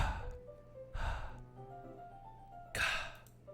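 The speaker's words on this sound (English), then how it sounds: "a sharp inhale, like someone is sucking air through their teeth." Sharp, breathy inhales and exhales from Doki Doki Literature Club come in three separate bursts over a quiet, faintly tonal game background, with no speech.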